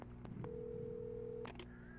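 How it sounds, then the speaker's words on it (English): A telephone in the Alan Wake Remastered video game, a short electronic tone held for about a second after a couple of quiet clicks, faint and clean with no talking. "Okay, there's a phone."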